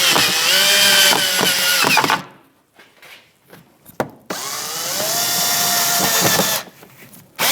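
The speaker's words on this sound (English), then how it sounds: "So I'm going to get the screw from below first." A power drill backs Phillips head screws out of a rear inner fender liner on a 2015-2024 Jeep Renegade, whirring loudly in two long bursts close by, separated by quieter clicks and handling noise.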